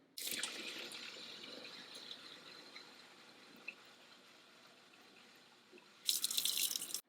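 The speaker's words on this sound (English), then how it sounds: "Go ahead and add water and cleaning solution." Water and cleaning solution pour steadily into the refill bottle of an O-Cedar ProMist Max spray mop, a soft continuous splashing stream that ends with a brief louder rush, no talking.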